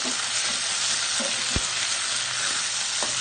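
Food fries in a pan with a steady, dense sizzle throughout, close by, with a few faint knocks of a utensil and no talking.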